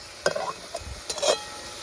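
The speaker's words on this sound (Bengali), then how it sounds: "এবার এটাকে নাড়িয়ে চাড়িয়ে একটু ঢেকে দেবো।" A spoon stirs matar paneer curry in a pan, giving a few short, soft scrapes and a light sizzle over less than two seconds.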